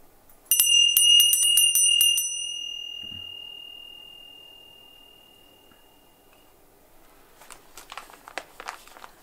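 A ritual bell rung several times in quick succession at the start of a lunar esbat ceremony, each strike clear and bright, then a long shimmering ring that slowly fades, with faint rustling near the end.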